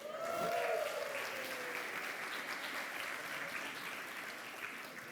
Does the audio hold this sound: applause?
yes